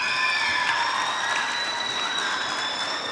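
A school audience at a youth leaders' assembly applauds in a steady, even wash of clapping, with faint whistling tones running over it.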